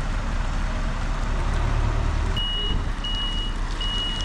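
A truck towing a trailer turns round to a constant low engine rumble, with intermittent high reversing beeps sounding in regular bursts through the second half.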